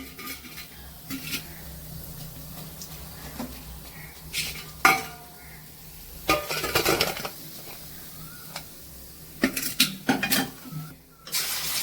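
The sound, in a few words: taro root (colocasia) frying and stirred in oil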